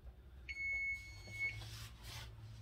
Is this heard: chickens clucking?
no